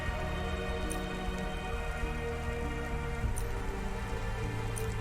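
Steady rain in the video game Cloudpunk, falling as a dense, even hiss with faint drip-like ticks under a low, continuous background drone, holding at the same level throughout.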